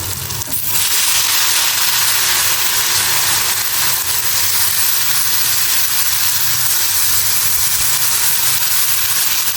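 Potatoes go into a pan of fried onions with a little turmeric and salt in a home kitchen in Keraniganj, setting off a loud, steady, hissing sizzle that starts abruptly and holds evenly to the end, with no talk.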